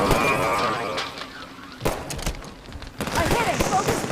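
Gunfire in Halo 5: Guardians, with scattered sharp shots and bursts that cut through a busy game soundscape, some louder cracks near the middle and a denser volley toward the end.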